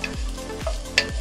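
Chopped garlic sizzles and fries in a hot pan while being stirred, a soft steady crackle with a few scraping stirs, close and fairly quiet.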